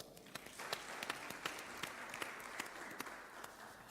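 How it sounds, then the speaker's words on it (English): Sparse, quiet applause from a small audience at a startup and innovation summit in Kenya, individual claps standing out irregularly against a low room hum. "Let's give them a round of applause."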